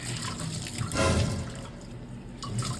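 Water splashing and sloshing during cleaning, a steady wet wash with a louder surge around the middle, fairly close and with no talk over it.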